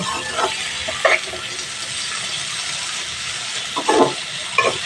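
Pumpkin and potato pieces frying in oil in a pan, a steady soft sizzle with several brief louder crackling bursts as the food is stirred, close and without talk.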